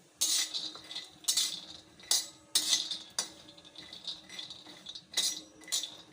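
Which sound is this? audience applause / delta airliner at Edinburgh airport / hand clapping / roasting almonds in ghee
roasting almonds in ghee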